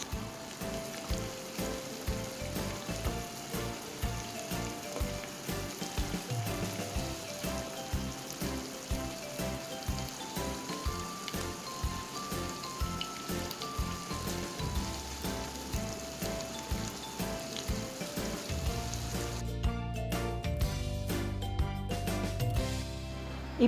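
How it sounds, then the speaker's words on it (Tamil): Chicken palaandi simmering in a pan over a low flame gives a steady, soft sizzle and crackle, continuous throughout with a faint regular tapping underneath and no talk. "ஒரு 5 நிமிடம் லோ ஃப்ளேமில் வைத்திருக்கின்றேன்."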